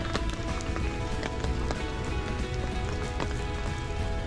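Steady rain pattering on a hard surface, a dense even hiss with scattered louder drops, no voices.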